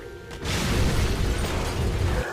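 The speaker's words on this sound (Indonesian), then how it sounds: "Dan mobil itu pun meledak." A car explodes: a loud explosive roar bursts in after a brief quiet moment and sustains as a dense, rumbling blast.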